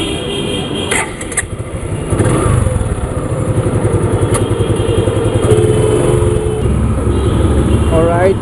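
A new-model KTM Duke motorcycle in Delhi rumbles with a steady mid-pitched engine and exhaust note that builds after about two seconds and holds loud and close, with a voice briefly audible underneath.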